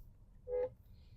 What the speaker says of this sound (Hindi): हॉर्न पाकिस्तानी ट्रैफिक के लिहाज से बड़ा अच्छा है।